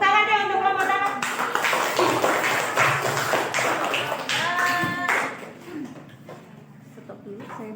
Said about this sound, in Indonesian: Tepuk tangan deh untuk kelompok tanah.